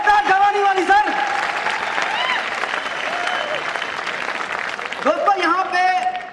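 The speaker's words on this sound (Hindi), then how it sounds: "सभी लोगों के लिए तालियां होनी चाहिए, जोरदार तालियां, जबरदस्त तालियां" An audience claps in loud, sustained applause at a celebratory stage show while a presenter's voice carries over the start and end.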